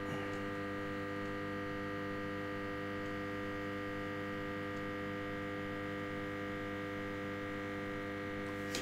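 A 400 W lamp ballast for a black light drones with a steady, close mains hum, with strong even harmonics holding unchanged throughout and no voices.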